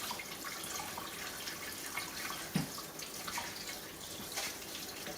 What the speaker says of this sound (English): I'm gonna rinse off the yucky stuff I don't like